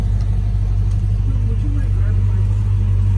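A 1964.5 Ford Mustang convertible idles outdoors while warming up, a steady low engine rumble holding constant and fairly loud throughout, with a person talking over it.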